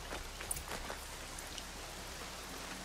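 Steady rainfall in the video game Horizon Zero Dawn, a soft continuous hiss with scattered drop patters, faint and even throughout.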